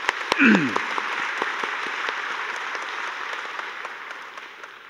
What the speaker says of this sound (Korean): 우리 감사의 마음을 받아서 한번 박수 한번 칩시다